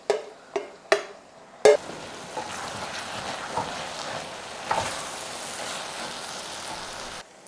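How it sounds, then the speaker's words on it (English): Chopped onions cook slowly in a pan over low heat: a few sharp clacks up front, then a soft, steady sizzle and crackle that carries on quietly to the end. "We can now add in our onions, and we're going to cook these over a low heat for about half an hour"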